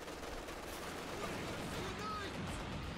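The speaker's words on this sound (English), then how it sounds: "Got a heavy machine gun there." Heavy machine gun fire in Company of Heroes 2, a dense, continuous battlefield clatter of bursts mixed with other gunfire across the whole stretch, with a voice faintly under it.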